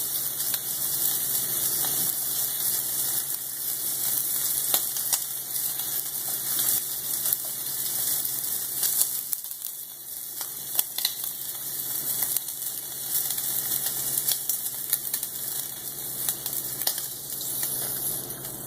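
Cooked shrimp sizzling and frying in a hot pan, a steady broadband hiss that runs continuously with a few small crackles and a brief dip midway, no talking.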